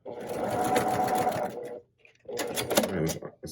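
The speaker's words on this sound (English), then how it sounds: "Let's backstitch." A sewing machine stitches a quilt seam, running forward in a steady whir, stopping briefly, then whirring again to backstitch, loud and close.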